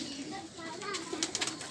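A pigeon from a Faisalabad pigeon keeper's loft coos softly in short wavering calls, faint and close, with people talking nearby.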